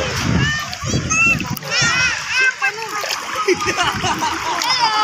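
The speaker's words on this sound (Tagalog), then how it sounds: "Medyo malakas yung alon." Sea waves splash and slosh at a white sand beach in Agno, Pangasinan, with strong surf washing steadily close by while children and other people talk over the water.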